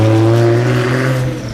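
A Tesla Model 3 Performance on the Chaika race track gives off a loud, steady, tonal drone with layered harmonics, holding strong before easing slightly at the end.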